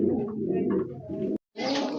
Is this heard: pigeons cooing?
yes